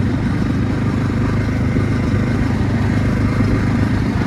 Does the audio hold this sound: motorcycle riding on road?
yes